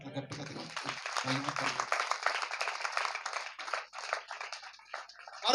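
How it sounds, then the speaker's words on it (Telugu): A church congregation bursts into loud, sustained clapping that fills the room; a voice is heard briefly at the start before the applause takes over and fades slightly toward the end. "చప్పట్లు గట్టిగా"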